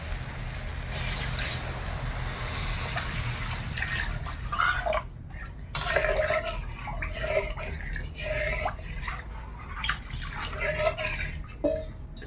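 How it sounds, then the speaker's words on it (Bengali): Water poured into a pan of fried spices for a hilsa and eggplant curry, a close gushing splash that turns into bubbling hiss, with brief clatters of a utensil. "এবার জল দিয়ে দেব।"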